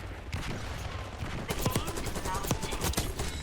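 A sentry gun firing in Call of Duty, heard as scattered sharp bursts and individual shots at mid distance amid game noise and a rumbling background, growing denser in the second half.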